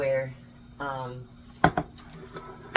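A spoon scrapes and clinks against a pot while stirring cherry pie filling, a few sharp metallic taps at close range following a voice at the start.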